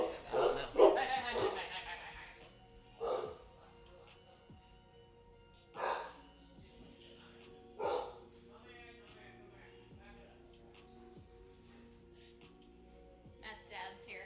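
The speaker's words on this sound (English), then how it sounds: "The dogs are a little excited." Excited dogs at home, a burst of barking and yips at the start, then scattered single barks and soft whimpers spaced apart over a quiet background, with occasional nearby talk.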